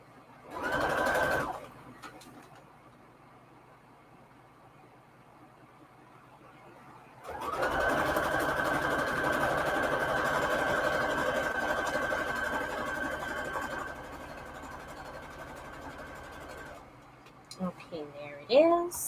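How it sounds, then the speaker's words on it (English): Sewing machine stitching a quarter-inch seam along a fabric edge for a quilt: a short burst of whirring, a pause, then a longer steady run of stitching, ending with a few clicks. "Again, sewing on the exposed edge and fabric right side down."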